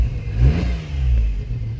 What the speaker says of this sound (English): It's got a little bit of an exhaust leak.